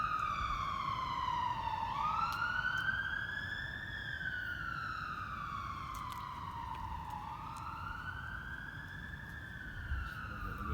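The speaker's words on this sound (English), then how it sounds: "Wait for the fire engine to go past. Or the ambulance." A wailing fire engine or ambulance siren rises and falls slowly as it passes, loud and steady over low traffic rumble.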